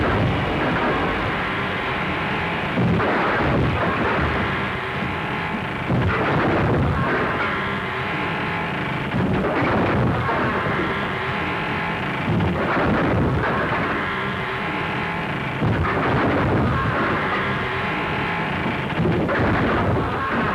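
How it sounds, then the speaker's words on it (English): Gunshots fired from a window in a 1935 Western film: about six heavy, booming reports at intervals of roughly three seconds, each rising out of a continuous rumbling, stormy background noise. "Firing at him from the window."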